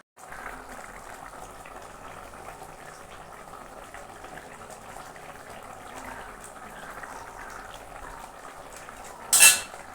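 Coconut milk boiling in a cooking pot gives a steady, low bubbling hiss throughout, closing with a brief, sharp clatter at the very end.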